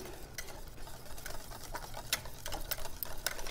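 A spoon stirs shredded cheese, Gruyere, Swiss or Parmesan, into a Mornay sauce in a pan, making soft, irregular scraping and clicking strokes over a faint steady background hiss.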